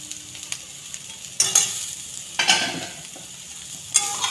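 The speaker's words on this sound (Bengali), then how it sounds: "ধনেপাতাটা দিয়ে একটু নেড়ে নেব।" Egg bhujia fries in a pan as coriander leaves are stirred in, a steady sizzle broken by several sharp spatula scrapes against the pan, close and loud.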